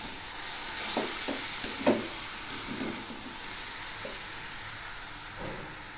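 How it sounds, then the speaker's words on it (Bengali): Khesari greens dropped into hot oil and stirred, giving a soft steady sizzle with a few scraping stirs, quiet and close, no voices. "এবার আমি শাকগুলো দিয়ে দিচ্ছি। পুরো শাকটাই দিয়ে দিলাম। এখন এগুলি নেড়ে দিচ্ছি।"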